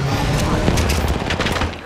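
Apex Legends gunfire crackles in a dense, rapid barrage of shots with booming hits, continuous and loud, with a voice talking over the fight.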